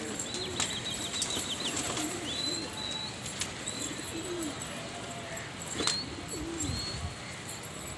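Pigeons coo repeatedly in low, throaty bursts against a steady outdoor background, with a few higher chirps and a brief flutter nearby.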